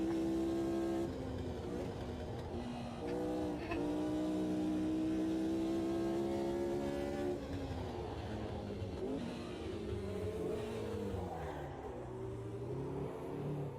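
Audi TT race cars at Gelleråsen in a racing sim howl at a distance, their engine notes rising and falling in long sweeping pitches as they echo faintly across the track under a constant engine drone.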